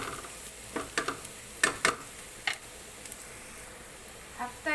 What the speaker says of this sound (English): You have to saute this until the onion gets translucent